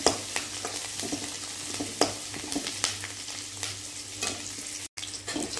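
Onions and curry leaves sauté in a pan for paruppu urundai kulambu, with a steady close sizzle broken by regular scraping stirs and a brief dropout near the end. No one speaks.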